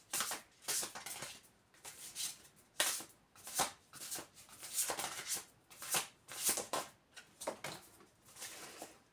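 A deck of large cards being shuffled and cut, soft rhythmic riffling and slapping strokes repeating close by and quietly, with no talking.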